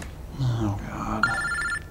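Telephone ringing with a steady electronic bell tone, entering partway through over voices and continuing, close and fairly loud.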